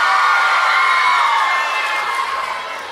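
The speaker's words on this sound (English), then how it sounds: "I've been hearing a lot of cheering and a lot of screaming" A crowd at a live event cheers and screams loudly and continuously, with shouts and whoops blending into a dense roar that fades slightly toward the end.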